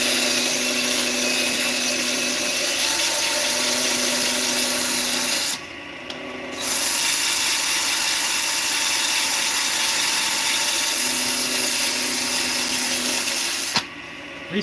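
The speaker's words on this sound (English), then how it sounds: "I'm going to use the drill this time." A power drill runs steadily while slimline pens are turned on a wood lathe. The whir holds a constant pitch with light rubbing and sanding texture over it, and it briefly cuts out twice.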